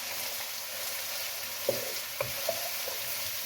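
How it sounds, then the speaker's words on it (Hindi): Chopped onion frying in hot oil in a kadhai, a steady soft sizzle with a few sharp clinks of stirring, close and moderately quiet. "और प्याज को फ्राई कर लें।"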